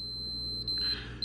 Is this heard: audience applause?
no